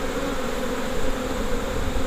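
Honey bees buzzing around an open hive during an inspection, a constant, dense drone close by with no breaks and no voices.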